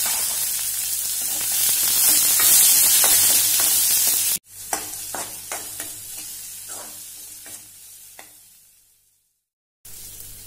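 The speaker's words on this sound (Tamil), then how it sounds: "வெங்காயம் நல்லா வதங்கிருச்சு." Chopped onion and red chillies fry loudly in hot oil for sambar, a bright sizzle that softens after a sudden cut, followed by a series of stirring scrapes before it fades to near silence.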